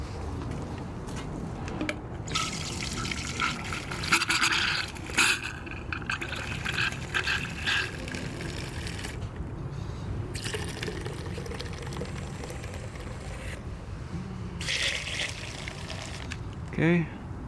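Car wash soap poured into a foam cannon before a touchless wash, a soft liquid trickle and splash running under steady background noise with a voice speaking intermittently nearby.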